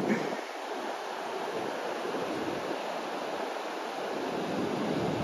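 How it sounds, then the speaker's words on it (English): Sea waves wash steadily along the rocky East Lothian coast, a broad continuous roar of surf with gentle swells and some wind noise, no voices. "And the waves crashing behind."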